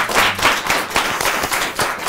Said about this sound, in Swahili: Watu makofi yao.